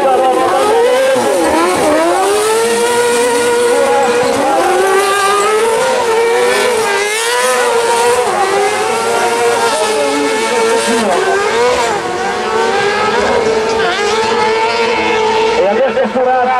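Junior buggy race cars at a European autocross championship event, engines screaming and revving in rising and falling sweeps as they pass, loud and continuous, with a commentator talking over the engines.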